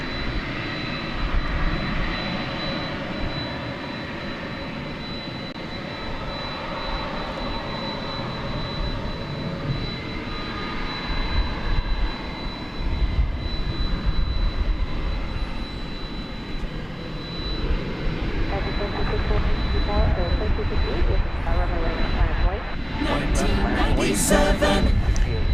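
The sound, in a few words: UPS Boeing 767 jet aircraft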